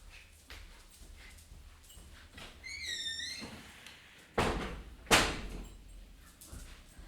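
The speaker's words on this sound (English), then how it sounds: "I'm just going to shut the door." A door is shut indoors with a sharp, close thud, after a softer bump and some rustling, while a bird chirps briefly in the background.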